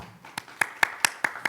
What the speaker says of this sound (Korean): 김 교수님, 큰 박수 부탁드립니다.